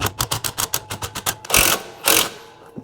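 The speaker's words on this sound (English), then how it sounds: "I'm going to use just a driver here just to kind of sink that thing down all the way." A power driver sinks a bolt while mounting a one-wire alternator on a Ford F100, giving a rapid series of about a dozen short ratcheting pulses followed by two longer, louder whirring bursts, close up with no talking.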